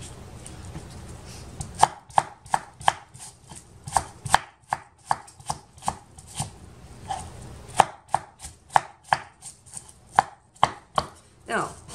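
A knife chopping an onion on a cutting board, a steady series of about thirty sharp, close knocks at a brisk, slightly uneven pace, with no talking.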